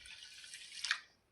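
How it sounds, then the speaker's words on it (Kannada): Rice rinsed with water in a kitchen vessel before cooking jeera rice, heard as one brief, faint burst of soft splashing and dripping, with no voices. "ಅಕ್ಕಿಗೆ ನೀರು ಹಾಕಿ ತೊಳೆಯೇನಿ ರೀ"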